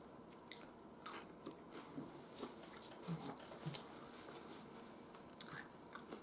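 Close, crisp crunching from bites into a brittle almond crisp cookie, several sharp cracks scattered over a few seconds with quiet chewing between them.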